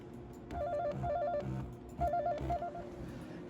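A Steam Controller pings with a trilling, phone-like warble in short repeated bursts while it vibrates, fairly quiet and heard close up over a low background rumble.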